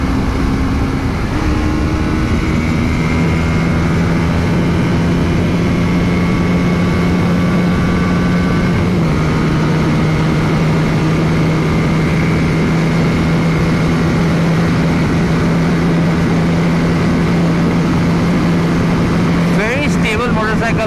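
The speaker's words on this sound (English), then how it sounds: "Very stable motorcycle on the straights." A TVS Apache RR310 motorcycle at high speed on an open road, its steady engine drone holding a constant pitch with heavy wind rush throughout and a brief gear-like pitch shift near the end.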